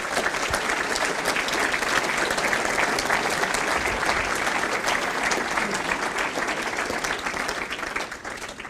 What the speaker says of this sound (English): So just another round of applause, please, if you would, for Rob and Otto Brooks.